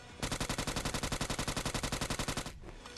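Automatic gunfire in the battle royale video game ScarFall 2.0, a rapid, steady burst of around thirty close, loud shots lasting over two seconds and then stopping abruptly.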